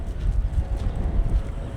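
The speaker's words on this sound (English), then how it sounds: "I hope you can hear me, it's really windy." Strong wind buffets the microphone outdoors at the Field of Dreams film set in Dyersville, Iowa, in low, gusty rumbles, loud and uneven across the moment.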